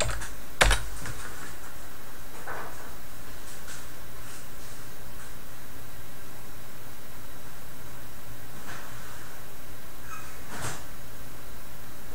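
A few sparse, isolated keystrokes on a computer keyboard tap out over a constant background hiss, with long quiet gaps between them.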